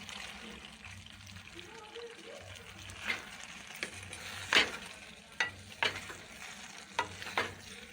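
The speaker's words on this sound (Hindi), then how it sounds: "अब इसमें चने की दाल डाल लेंगे।" Boiled chana dal goes into frying masala and is stirred, a soft wet sizzle under a low background hum, punctuated by several sharp spoon scrapes and splats in the second half.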